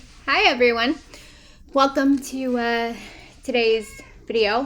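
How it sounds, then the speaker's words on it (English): A house cat meows in several drawn-out, rising and falling cries spread across a few seconds, close and clear, mixed in with a person talking. "excuse the cat for meowing."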